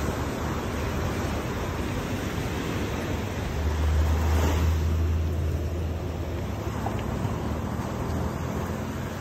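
Surf washes onto a black sand beach at Puerto Viejo, Costa Rica, as a steady, airy rush that swells briefly partway through, with no voices.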